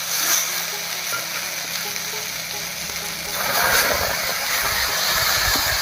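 Ground green chili and garlic sizzle in hot oil with frying vegetables, a steady broad hiss throughout that swells louder partway through, with faint stirring scrapes beneath.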